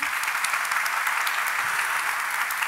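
A large audience at a recovery celebration gathering bursts into sustained applause, a loud, continuous roar of many hands clapping with no talking.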